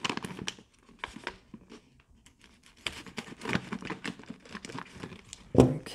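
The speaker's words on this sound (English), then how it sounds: "Let me see if I can open it with my fingers." A 5-pound paper-and-plastic sack of extra fancy white rice is torn open by hand, with scattered crinkling and tearing bursts, a quiet pause, then a louder rip near the end, close and without talk.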